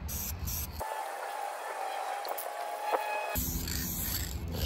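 An aerosol can of rust guard hisses steadily for about two and a half seconds as it coats a Nissan 200SX street car outdoors, with louder ambient noise before and after.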